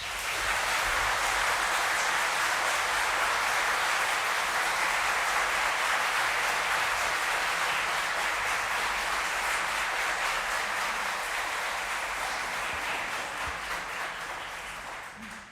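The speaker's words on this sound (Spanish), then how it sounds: "El público les puede brindar un merecido aplauso." An audience applauds newly sworn lawyers at a Supreme Court swearing-in ceremony, a dense, sustained wash of clapping from a large crowd that holds steady for most of the stretch before slowly tapering off at the end.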